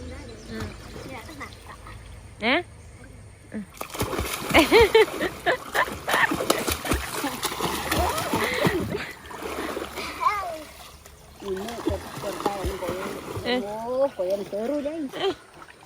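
Water splashing as someone swims in a shallow river, with irregular nearby splashes mixed with lively conversation and laughter from people standing close by.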